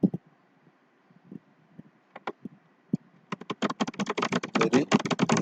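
Typing on a computer keyboard while writing LaTeX table code: a few isolated key taps at first, then a dense run of rapid, close, loud clicks with no talking.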